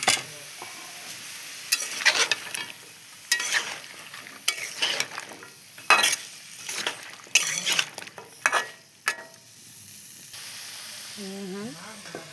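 Vegetables stirred and sizzling in a pan while cooking for a Bengali fish curry, with repeated scraping stirs and clinks of a utensil against the pan over a steady frying hiss.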